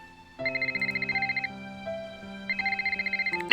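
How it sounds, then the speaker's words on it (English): A phone rings in the Nancy Drew video game Secrets Can Kill Remastered: two bursts of rapid electronic trilling separated by a pause, clear and alone. "Oh, we're getting a phone call."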